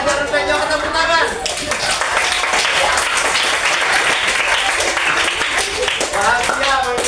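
Students applaud during a PE lesson with sustained, dense clapping that stays loud throughout. Voices ring out over the applause at the start and again near the end.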